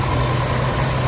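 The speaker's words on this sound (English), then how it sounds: "the motor sounds pretty damn healthy." Jeep Wrangler YJ engine idling after a cold start, a steady low rumble with an even hum throughout the brief moment, close and continuous with no talking.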